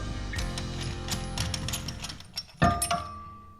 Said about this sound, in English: you slowly turn this, and then it pushes the piston back into the caliper until it hits the bottom